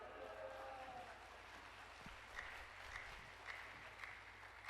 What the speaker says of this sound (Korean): 우리 목사님 나오실 때 할렐루야로 하나님께 영광 돌리고 박수로 맞이하겠습니다